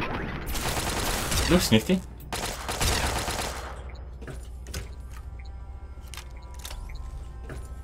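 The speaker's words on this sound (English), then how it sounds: "These turrets appear to be quite OP." Automated turrets in Fallout 3 let loose a dense, rapid barrage of loud bursts that fades into scattered single shots, while someone speaks briefly.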